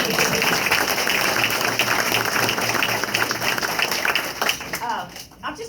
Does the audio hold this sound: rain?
no